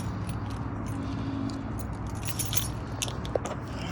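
Keys jangle and clink in quick metallic bursts close by, over a low background rumble.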